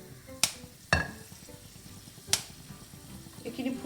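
Bay leaf, cinnamon, cardamom and cloves splutter in hot oil as whole spices for a banana stem khar, with a few sharp pops and crackles standing out over a low, steady sizzle.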